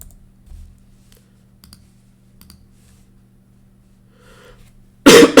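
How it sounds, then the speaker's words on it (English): A person coughs once, abruptly and loudly, at the very end after a long stretch of near silence broken only by faint clicks. "I have a little bit of a cough"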